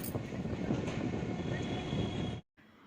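A moving train rumbles along the rails with a steady, loud roar and rattle that stops abruptly near the end and is followed by a brief quieter stretch.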